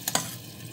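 Flour is stirred into microwave-warmed milk for a béchamel, giving a quick scraping whisk of utensil against pan with a soft sizzling hiss, brief and close.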